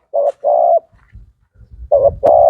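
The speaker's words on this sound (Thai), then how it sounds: "มีลูกนก มีลูกนกมาครับพี่น้อง ดูครับตัวนึงตีบนนะครับ" Decoy pigeons or doves and wild birds cooing at a bird trap cage, loud and close: two coos, a pause filled with low rustling, then two more, with no talking.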